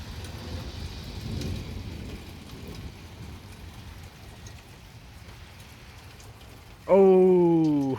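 A small thunderstorm with steady rain pattering throughout and a faint low rumble of thunder early on; near the end a loud voice abruptly cuts in over the rain.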